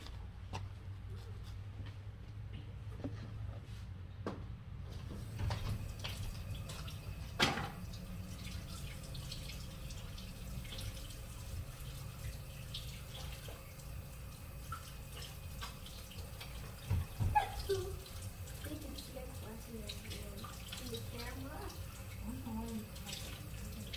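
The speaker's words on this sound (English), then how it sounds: "I'm gonna go wash my hands." A tap runs into a sink as hands are washed, a faint steady water wash with scattered drips and clinks, and a voice briefly heard partway through.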